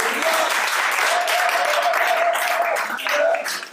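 A church congregation applauds in a sustained burst of dense clapping with some voices calling out through it, loud and close, tapering at the end.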